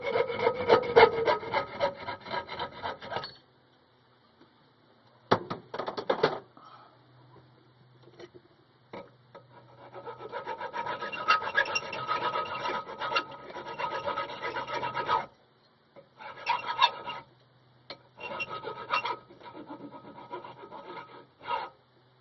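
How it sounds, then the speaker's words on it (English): A small tube on a homemade all-fuel burner is cut off with a rasping, back-and-forth sawing sound. It comes in close, steady bursts separated by short pauses. "Now we're going to cut the excess tube off."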